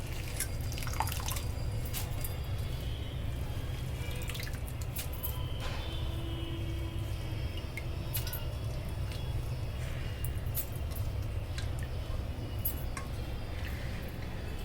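Dried prawns are rinsed in water in a kitchen, with faint dripping and gentle sloshing over a steady background hum and occasional soft clinks, no voices heard.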